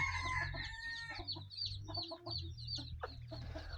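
A Shamo fighting-breed rooster and hens in a yard make close, busy clucking and squawking calls, with a crow-like cry near the start, over a low steady background hum.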